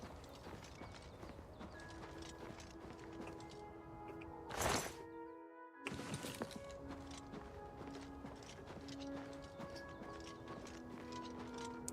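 Steady clip-clop of horse hooves at a walking pace in the video game The Elder Scrolls IV: Oblivion Remastered, with a brief louder crash partway through and a faint musical backdrop.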